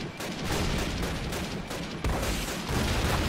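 Rapid, loud gunfire from the WWII shooter Call of Duty: United Offensive, set in Belgium: a dense, sustained volley of shots with a brief break midway before the firing resumes.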